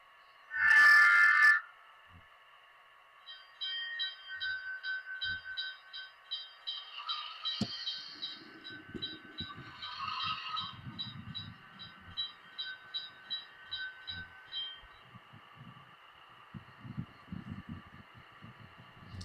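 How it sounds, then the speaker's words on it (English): A Rapido model diesel locomotive runs along its track with light, uneven rolling clatter and faint periodic clicks, preceded by a brief louder burst at the start; no talk. "Then I start running the rapido"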